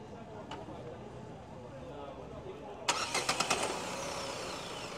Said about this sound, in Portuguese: pedi para um amigo da partida aqui no motor, para vocês escutarem aqui junto comigo o ruído aqui do carro